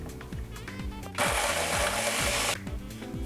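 A blender blitzes butter and crust crumbs in a short burst of roughly a second and a half, a dense, harsh whir that rises abruptly and cuts off cleanly, with a mechanical hum running before and after.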